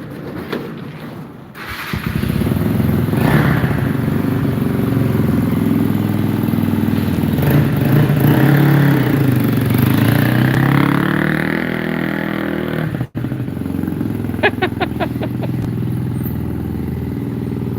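A 1993 Ford Mustang GT Fox Body runs a burnout, its engine holding a loud, sustained roar close by with rising and falling revs, then easing toward the end with some light rattling.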